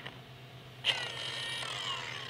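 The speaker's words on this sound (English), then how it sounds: "Here, I'm going to hit it with the polisher." A low-RPM polisher buffing a ceramic coating on a P-51 Mustang aircraft spins up with a sudden whine partway through and keeps up a steady, fairly faint machine hum to the end.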